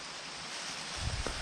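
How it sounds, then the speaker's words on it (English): A fairly large creek rushes loudly below a steep, rocky hillside in deer hunting country, a steady broadband roar of flowing water with wind buffeting the microphone, continuous and with no talk. "you got this fairly large creek down here below that's loud, so you can't hear anything coming"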